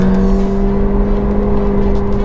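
A Honda Civic Hybrid e:HEV accelerates uphill from a stop, its engine droning loudly and steadily with a strong tonal whine held throughout, heard from inside the cabin with no talking.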